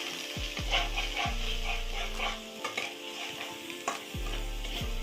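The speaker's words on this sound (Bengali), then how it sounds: "তো মশলাটা আমি ভালোভাবে কষিয়ে নিচ্ছি" Spice paste with turmeric and fennel seeds fries in oil for radish and urad dal, a close sizzle broken by repeated scraping stirs and pan knocks, with no voices.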